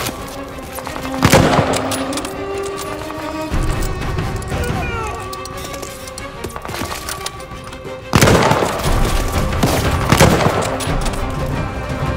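Heavy gunfire from a Call of Duty: Vanguard battle at a submarine pen, with loud bursts near 1.3 s and again from about 8 s, over steady combat rumble and a shouted voice.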